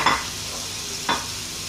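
Tomatoes and other ingredients for a dry egg masala are stirred and sautéed in a pan: a steady, close sizzle with two quick spatula scrapes about a second apart, and no voices.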